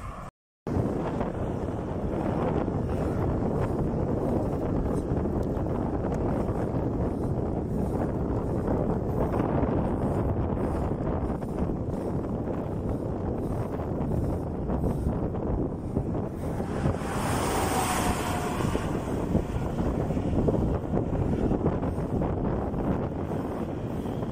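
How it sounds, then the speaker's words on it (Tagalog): Strong headwind roars continuously across the microphone while riding a bicycle, a loud steady buffeting rush with no voices, as if moving fast through open air. "Salungat sa hangin."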